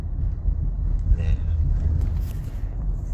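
Low, steady road rumble inside a moving car, with wind buffeting and faint rattles throughout, fairly loud and continuous.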